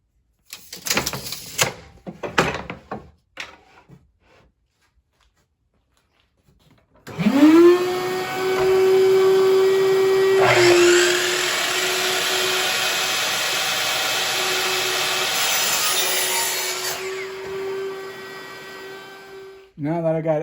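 A power saw spins up and cuts wooden legs to length steadily for about twelve seconds, loud and close, with a pitch shift midway; brief knocks and handling noises come before it.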